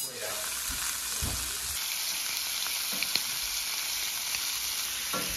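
Venison backstrap sears in butter burning hard in a pan, a steady loud sizzle running throughout with occasional sharper pops and crackles, no voices over it.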